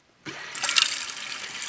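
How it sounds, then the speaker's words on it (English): Water bursts from the faucet of a sink in a homemade car camper and keeps running as a steady, close splashing hiss, with no talking. "The faucet goes on like this."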